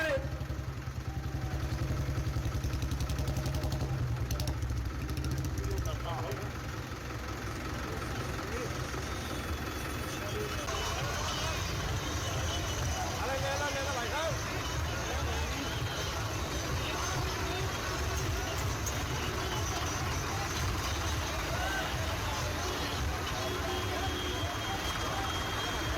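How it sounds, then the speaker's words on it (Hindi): Tractors rumble in a farmers' tractor rally, a steady engine drone running throughout beneath crowd voices and slogans, fairly close and loud. "ट्रैक्टर रैली निकली है"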